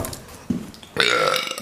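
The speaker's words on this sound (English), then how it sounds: "there's a good second burp of the day" Loud, close human burp, a short croak followed by a longer rumbling belch, heard alone in a blacksmithing workshop setting.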